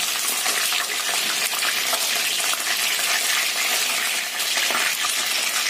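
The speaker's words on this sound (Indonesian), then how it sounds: "Kita goreng sampai ini matang atau kering aja." Fish frying in hot oil in an Indonesian home kitchen, a loud, dense, steady sizzle that crackles without pause throughout, close up and with no voices.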